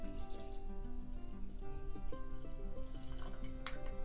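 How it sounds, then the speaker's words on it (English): Water pours into a hollowed pumpkin fitted as a bong. A continuous near gush has a resonant tone that steps upward as the vessel fills, with no speech. "I'm gonna fill it up with water."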